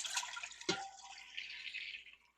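Goat's milk pours in a soft, steady trickle, with a small splash near the start, quiet and close.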